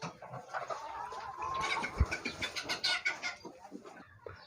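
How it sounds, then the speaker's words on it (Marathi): Chickens cluck softly while drinking from a water setup inside a farm shed, quiet scattered calls close by with little else around them. "आपल्या कोंबड्या पहा कशा मस्त पाणी पित आहे"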